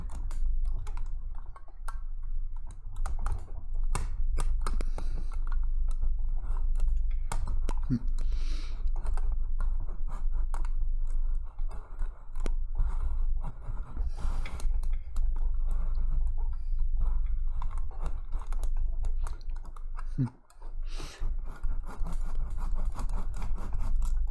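Close, sustained raspy scraping of a fine-toothed razor saw cutting lumber during a shed build, with irregular strokes over a low background rumble.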